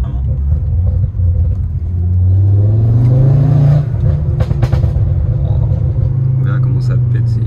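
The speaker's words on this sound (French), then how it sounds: "c'est une voiture qui pète quand même vraiment pas mal" A car revving hard with exhaust popping, a loud, close, steady engine roar that swells in pitch and crackles, with people talking over it.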